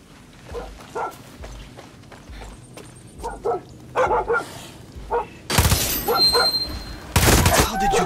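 A dog barking repeatedly in the video game Far Cry 6, sharp close barks in irregular bursts, joined by louder gunfire or impact noise in the second half.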